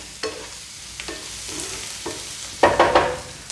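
Onions frying in a pan for an egg fry, with a low sizzle under a few scraping stirs of a spoon against the pan, the last stir louder and longer.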